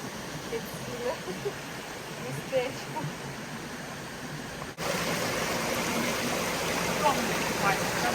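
A mountain stream rushes near a waterfall in the Carpathians in August, a steady broadband wash of water that grows louder and fuller partway through, with faint voices in the background.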